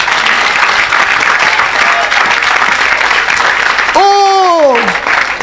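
A church congregation applauding, a dense, loud, continuous clapping close by, with a voice calling out near the end.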